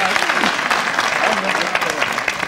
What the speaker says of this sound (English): You can applaud me for that one